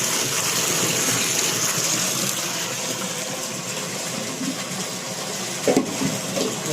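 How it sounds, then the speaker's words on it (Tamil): Water gushes steadily and loudly from the pipe of a newly installed BLDC solar pump, a continuous broadband rush with a brief splashy bump near the end and no voices over it. "தண்ணி வெளியே வருது"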